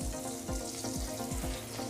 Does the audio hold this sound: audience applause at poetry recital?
no